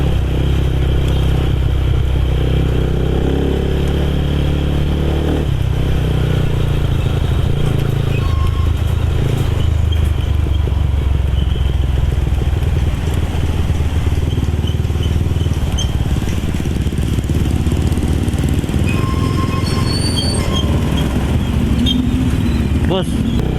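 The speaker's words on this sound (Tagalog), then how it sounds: "So iatid ko lang tong motor ko sa bahay" A motorcycle is ridden home along a road, its engine a steady, close, continuous drone with road rumble and occasional clatter, and a voice speaking over it at times.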